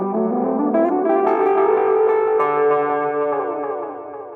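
A sustained electric guitar chord run through gate, compression and heavy effects to imitate an old synthesizer for a pixel-art Minecraft overworld theme, sounding buzzy, chorused and echoing, with a lower note sliding in midway, loud and unaccompanied.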